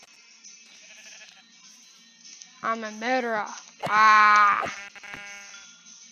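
Blocky Minecraft sheep bleat in two loud, wavering cries close by, the second longer and stronger, with a player's voice speaking over the quiet gaps.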